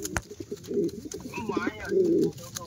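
Domestic pigeons, including a male Sirajee pigeon, coo in low, throaty bursts, with two longer rolling coos close by and faint voices in the background.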